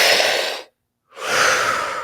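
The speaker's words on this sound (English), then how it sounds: "Gear number 3 is breathing in through the mouth, out through the mouth." Two loud, close breaths through the mouth, one exhale and then an inhale, separated by a brief silent pause, with no talking.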